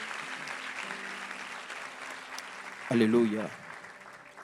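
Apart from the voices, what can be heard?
church congregation applauding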